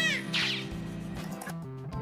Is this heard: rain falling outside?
no